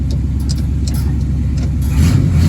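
A 1976 Jeep CJ5 engine runs steadily at close range with a low, even rumble, and the level rises slightly near the end.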